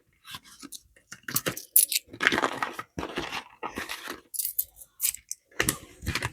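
Euro coins are handled and jingled from a budget envelope close up, in bursts of clinking and rustling with short pauses between them.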